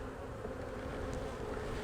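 Steady, close buzzing of many bees, a continuous droning hum with no pauses and no voices.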